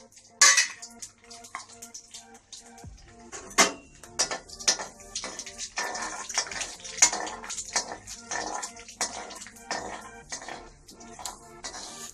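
Mustard seeds, urad dal, chana dal and peanuts dropped into hot oil for a tempering, giving a sharp clatter and then a busy run of popping crackles with utensil clinks, close and fairly loud.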